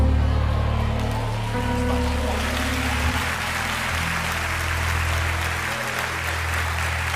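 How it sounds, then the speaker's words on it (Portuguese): A church congregation applauds during a sermon, a sustained, loud wash of clapping from many hands, with a low hum and faint voices beneath. "Por que todo mundo se abriu num sorriso e até aplaudiram?"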